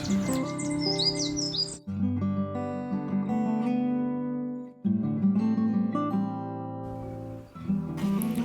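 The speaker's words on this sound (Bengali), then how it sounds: "আমার খুব পছন্দের পাখি এই রুফুস ফ্রন্টেড বুশটিট" Thin, high calls of a rufous-fronted bushtit flutter over a steady background of loud sustained music, most clearly at the start and again near the end; recorded near Sela Pass, Arunachal Pradesh.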